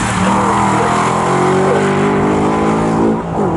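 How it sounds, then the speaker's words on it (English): A 1999 Volkswagen Golf race car roars past at close range on the Snetterton circuit during GT Challenge qualifying, its engine note loud and sustained with shifting harmonics as it crosses the line. "The 1999 Lee Sturgis Volkswagen Golf crosses the line in front of me here"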